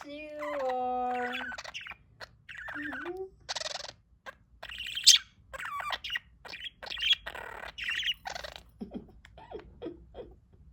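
Pet budgie chirping close up: a series of bright warbling trills, squawks and short tweets in irregular bursts, with quiet gaps between phrases.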